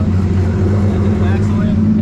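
An MK2 VR6 car engine idles steadily at a drag race, giving a loud, even low rumble that holds close and constant with no revving.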